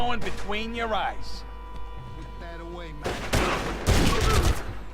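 Bursts of gunfire from The Godfather 2, crackling volleys over game music and effects, growing louder toward the end while someone talks over the action.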